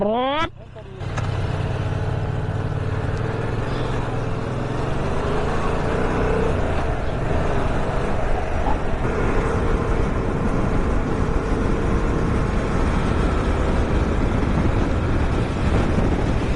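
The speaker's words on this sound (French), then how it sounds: "dès que tu commences à monter, tu l'entends la boîte à air" A Yamaha MT-07 motorcycle accelerates, its engine climbing briefly before settling into a loud, steady drone with a throaty airbox intake roar that continues throughout.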